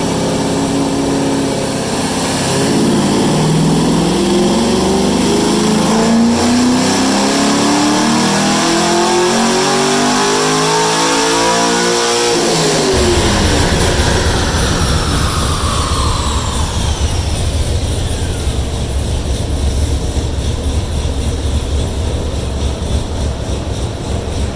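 5th gen Camaro Z/28 V8 on a chassis dyno, loud and close, climbing steadily through the revs in one long pull, then cutting off to a rumbling idle and coast-down whine while the rollers spin down.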